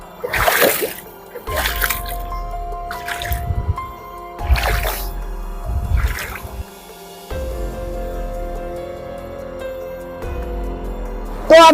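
Someone wading through a clear forest river, with close bursts of sloshing and splashing as feet push through the water, separated by quieter gaps and steady background trickle.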